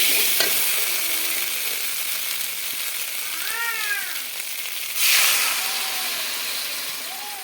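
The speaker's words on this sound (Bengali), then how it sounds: "সবজি ভালো করে কষানো হয়ে গেছে" Potato and papaya vegetables sautéing in a pan give a steady, close hiss of sizzling, with a few clear cat meows rising over it near the end.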